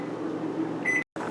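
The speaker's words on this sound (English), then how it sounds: "we've started the timer on the microwave to let the noodles simmer" A microwave timer is set while noodles simmer. A steady hum of the running oven is followed by a short electronic beep, then a brief cut to silence before the hum resumes.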